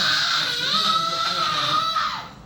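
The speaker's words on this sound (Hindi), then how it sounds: "हाँ भाई चिल्लाओ, ये गुर्राट निकालना" A loud, sustained shouted growl from a person during a yoga exercise, a strained voiced roar held steadily for about two seconds and then trailing off.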